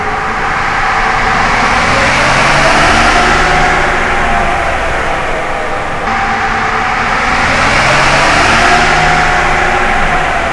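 A 2025 Cummins 6.7 diesel truck engine revs on a dyno, a loud, steady mechanical roar that swells and eases across two sustained pulls with no talking.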